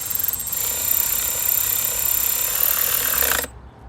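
A Milwaukee power tool drives a bolt into the rear fender of a 2008 Yamaha FZ6, a loud steady mechanical whir running for about three and a half seconds before stopping abruptly.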